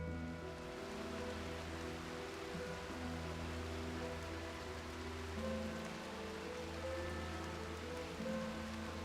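Constant rain patters down in the game RimWorld with a Medieval Overhaul mod, an even, moderate hiss of drops blended with soft low background music throughout.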